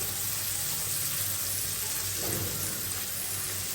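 Mustard-colored seeds frying lightly in oil with turmeric and salt, a steady close sizzle with soft crackle throughout, no voices.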